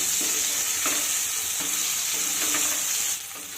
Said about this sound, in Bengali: এবার গ্যাসের হিট মিডিয়ামে রেখে বেগুনটাকে লাল করে ভেজে নিতে হবে